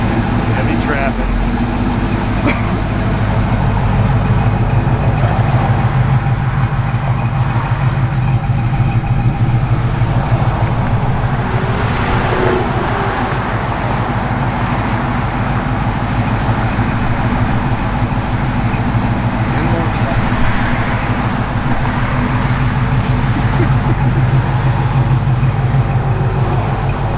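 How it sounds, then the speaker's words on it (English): Heavy traffic crawling at about two miles an hour around a 1970 Chevrolet Camaro RS/SS, with a steady, loud wash of idling and low-revving engines that runs unbroken throughout. "Heavy traffic."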